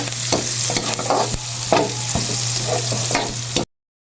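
Onion added to garlic sizzling in a pan where daing dried fish was fried, a loud close crackle with spatula stirs, ending abruptly in silence.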